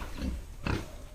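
Pigs on a farm fitted with a nipple drinker system, young animals about four months old and around 40 kg, give two short grunting bursts close by over a steady barn murmur.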